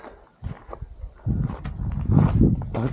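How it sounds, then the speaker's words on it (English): Horses clip-clopping along a terrace above the Camino de Santiago trail out of Rabanal, a series of nearby hoof steps that grows louder and busier toward the end, with a little outdoor background noise. "We got horses up on the terrace."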